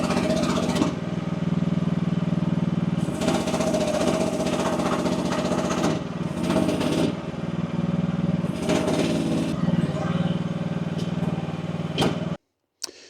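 Diesel engine of an AGT WH12R budget mini excavator runs loud and steady at close range with a rough, throbbing idle, then cuts off abruptly near the end, leaving silence.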